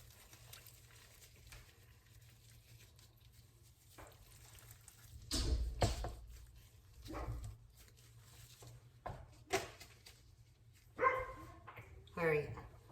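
A dog in a home kitchen gives a few short barks and yips, spaced apart and moderately near, over quiet kitchen sounds while someone talks.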